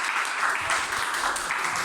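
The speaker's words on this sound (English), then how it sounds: "Nicolo, Tung, Andreas, you earned this applause." Audience applause on stage at a coding bootcamp demo day in Munich, a dense continuous clapping from a crowd, steady and fairly loud throughout.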